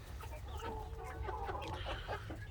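A larger rooster and surrounding hens cluck continuously at close range, a busy overlapping chorus of short calls with no voices.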